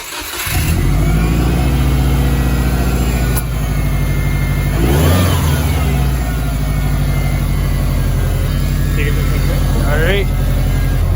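Subaru Forester engine pulling steadily while driving, a loud, close, continuous drone with road and cabin rumble and a rise in revs midway; people talk over it.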